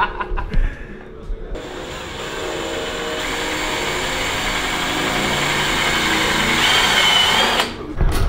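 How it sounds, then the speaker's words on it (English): A power drill bores through a metal plate for a parachute mount on a turbocharged Mustang street car, a loud sustained whine that climbs slightly in pitch as it cuts, with a few knocks before and after. "Alright, so you drilled the metal plate."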